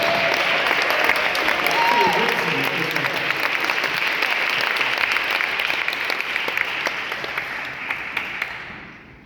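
A town hall audience in New York gathered over the e-bike crisis breaks into loud, dense applause with scattered sharp claps, sustained for several seconds before gradually thinning and fading out.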